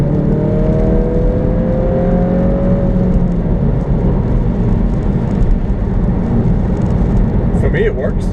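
Engine of a 2016 Kia Pro_cee'd GT, its sound fed into the cabin through sound piping, a steady throaty drone heard from inside while the car slows down, continuous and fairly loud throughout.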